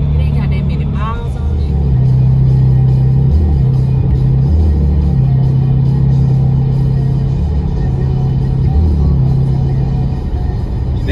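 A car engine idles with a deep, throbbing rumble, steady and close, its low drone swelling slightly at moments while people talk nearby.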